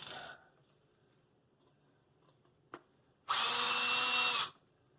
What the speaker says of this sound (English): So I'm going to take the screws back out.